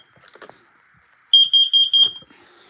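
Smoke alarm being tested, a piercing high electronic beep sounding in about six rapid pulses after some quiet handling noise, close and loud.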